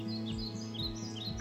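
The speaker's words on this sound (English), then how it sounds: "birds singing," Birds sing outdoors on a spring day, with a few faint, scattered chirps and short trills sitting above a steady, droning background tone.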